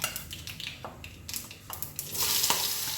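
Diced potatoes fry for aloo palak in a home kitchen pan, a steady close sizzle broken by scraping stirs and a few clinks, rising to a louder, denser hiss near the end, with no talking.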